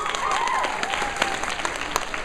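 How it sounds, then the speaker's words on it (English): A convention guest panel audience claps briskly and steadily throughout, with crowd murmur and faint voices mixed under the applause. "Round of applause."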